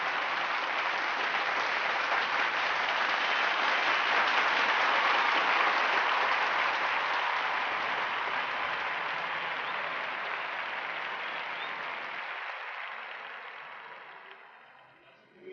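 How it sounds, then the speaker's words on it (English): Loud, sustained applause from a large crowd, a dense wash of clapping that holds steady before gradually fading out. "a deafening applause of 2 minutes followed."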